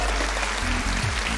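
A comedy club audience claps for a comedian, a dense, steady wash of applause from many hands that carries through without a break.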